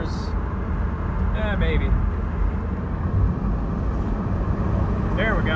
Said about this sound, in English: That was about 5 pounds of boost.